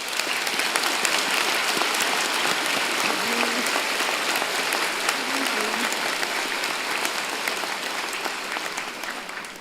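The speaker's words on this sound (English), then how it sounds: "join me and the platform party in thanking them with a vigorous round of applause" Sustained, dense applause from a large audience at a university spring convocation ceremony, steady and loud throughout with no pause.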